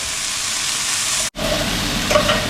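Chunks of beef browning in a pot hiss with a steady, loud sizzle and spatter that cuts out briefly, then resumes with faint stirring and scraping sounds.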